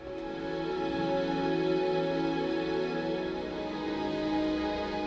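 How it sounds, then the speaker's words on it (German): A sustained orchestral string section plays a hook passage for a song in production, with dense, steady layered tones held at an even level throughout with no voices. "jetzt haben wir da für die Hook noch so ein Orchester"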